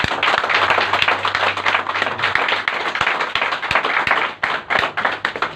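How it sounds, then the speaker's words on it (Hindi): Loud applause from a crowd, dense clapping that continues steadily and thins slightly toward the end. "एक बार जोरदार ताली"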